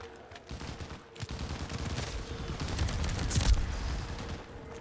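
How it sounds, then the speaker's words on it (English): Dense gunfire and explosive bursts from an RPG and other weapons in Black Ops 3 modded zombies, a sustained loud barrage with a heavier blast near the end. "The RPG."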